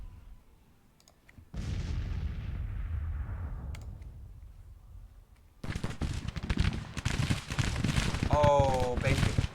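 Artillery and musket fire in a Civil War era battle in Grand Tactician, a booming blast that rolls off, then dense crackling gunfire with clicks, heard alongside someone speaking.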